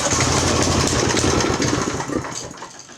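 A Craftsman 5 hp rear-tine tiller engine runs loud and steady at full throttle, then eases off slightly near the end, with no talking.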